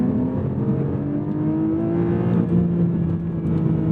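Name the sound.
sports car engine revving toward redline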